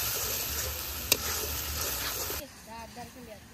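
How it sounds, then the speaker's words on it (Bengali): Spices (cumin paste, chili, turmeric and coriander powder with salt) sizzle hard in hot oil for a couple of seconds, then the hiss drops away and a voice talks over a faint background. "মশলাটা খুব ভালোভাবে কষিয়ে নিচ্ছে"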